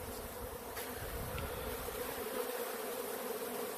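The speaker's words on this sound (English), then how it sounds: "Tap some more bees out." Honeybees from a newly set-up third hive buzz in a dense, steady swarm drone as they are tapped out of the box, loud and continuous with no talking.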